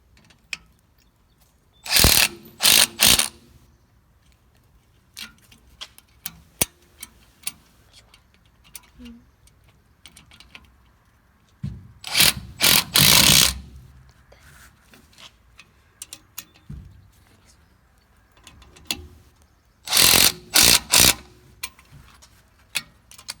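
A ratcheting tool clicks in quick bursts while bolts are tightened on a John Deere 400 rotary hoe bearing assembly, three loud bursts spaced apart with faint ticks and handling noises between them.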